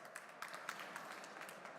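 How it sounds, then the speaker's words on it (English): A conference audience at South Summit 2016 applauds speaker Gonzalo, a brief, faint, distant patter of many hands clapping together. "Applause for Gonzalo."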